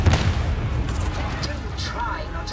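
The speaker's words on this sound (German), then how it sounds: "Alles um mich herum explodiert." Explosions in the Warhammer 40k Darktide video game, with a low rumbling boom that keeps rolling under continuous game noise for a couple of seconds.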